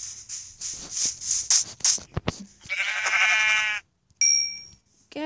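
Blocky sheep in Minecraft Pocket Edition bleat in a series of loud, close calls, followed by short game clicks and chimes, with no talking.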